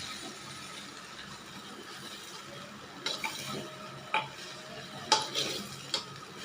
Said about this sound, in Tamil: மஷ்ரூம் உள்ளே போட்டுட்டு கொஞ்ச நேரம் கிளறுவோம்.